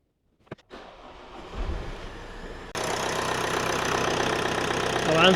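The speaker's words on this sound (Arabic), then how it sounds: "طبعا صوت شوية يصير قوي مال الطقطقة والشغلات هاي، من يتداور الدهن يرتاح المحرك" A cheap Toyota car engine, just given fresh oil and a new filter, cranks and catches partway through. It then idles loudly and roughly, with a steady ticking clatter that grows slightly louder toward the end.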